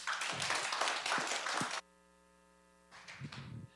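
A lecture-hall audience claps in welcome for a professor, a burst of applause that cuts off abruptly, leaving a steady electrical hum before a softer patter of clapping returns.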